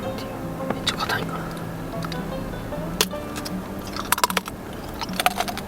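Crisp, crunchy bites and chewing of a very hard, sweet baked snack eaten outdoors at a car campsite, close to the mic with irregular crackling snaps under quiet background noise.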